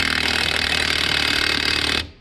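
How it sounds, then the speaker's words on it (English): A loud, close Earthquake XT 3/4-inch impact wrench from Harbor Freight hammers rapidly while tightening a bolt, then stops abruptly near the end. "I'm gonna tighten this thing up using this tool. Okay, I'm gonna tighten up this bolt,"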